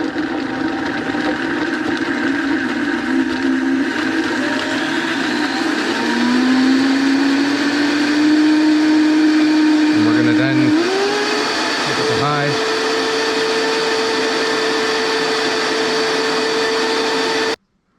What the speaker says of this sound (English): So we're going to start out slow on the blender